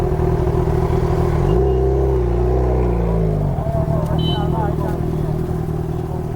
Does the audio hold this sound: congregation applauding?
no